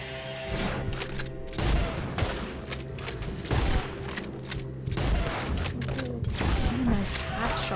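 Gunshots in the Western game Red Dead Redemption 2 crack out in scattered bursts amid a tense firefight, each shot sharp and close, with game music and ambient sound running underneath.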